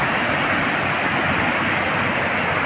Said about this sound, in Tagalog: Kumpul-kumpul na mga maliliit na falls, kaya tinatawag na aliwagwag.